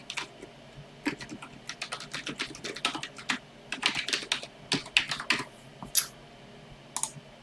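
An email address being typed on a computer keyboard, with quick irregular bursts of key clicks and short pauses between them, close and clear, with no talking.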